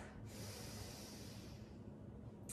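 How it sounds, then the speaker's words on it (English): A slow, steady inhale through the nose during a hot Pilates breathing exercise, heard as a soft, continuous airy rush lasting a couple of seconds, close and quiet with no talking over it. "Inhale through the nose."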